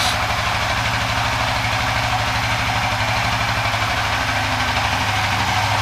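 An engine idling steadily after its idle was set on an Apitech ECU, a loud, even rumble with a constant low pulsing throb that holds unchanged throughout, with no voices.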